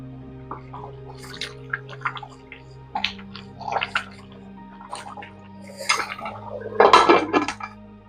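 A metal lid clatters onto a cooking pot of boiling chicken biryani rice as the heat is turned down. Several clanks and scrapes of metal against metal build to a loud, ringing clatter near the end, with a faint bubbling beneath.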